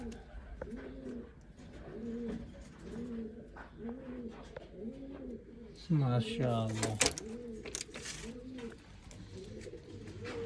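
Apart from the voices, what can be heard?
pigeons cooing in a loft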